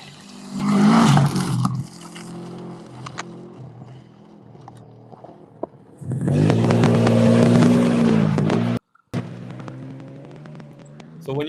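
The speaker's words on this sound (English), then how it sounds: "Here's the truck coming into stage." A rally truck at a Pennsylvania rally sprint drives into the stage, its engine rising in two loud surges separated by quieter idling, heard from nearby with wind noise around.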